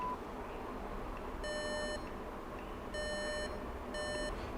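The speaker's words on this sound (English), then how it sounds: "Royalty free beeps, sound effects." Three short bursts of electronic beeping, each a rapid series of clean tones, stand out clearly over a steady low hiss, with no speech.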